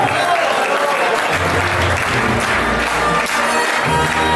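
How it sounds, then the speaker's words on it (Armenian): An audience at a live Armenian stage performance breaks into loud, sustained applause: dense, continuous clapping close by throughout. "Եկեք բուրը ծափարեք"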